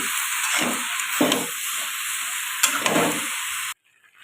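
Soft leafy greens stir-fried in a pan on a home stove, a steady quiet sizzle with a constant hiss, broken by scraping stirring strokes at intervals, then the sound cuts off abruptly.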